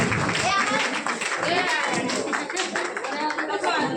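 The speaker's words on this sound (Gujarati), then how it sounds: "બસ જોરદાર તાળીઓનો ગણગાન કરીએ" Audience clapping fills a community hall during an award and felicitation ceremony, a dense, steady wash of many hands for about four seconds with voices mixed in.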